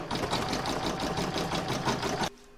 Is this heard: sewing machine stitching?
yes